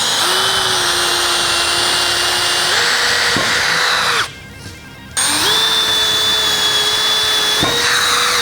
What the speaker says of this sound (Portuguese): Eu ainda vou conseguir fazer o furo lá por baixo